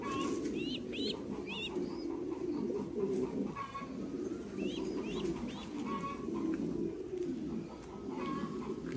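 Thai Titan meat pigeons coo softly inside a breeding loft, low murmuring coos layered together, with small repeated chirpy calls and occasional wing rustles over a steady background.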